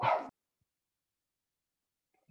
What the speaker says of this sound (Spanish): ¿Quién me está ladrando?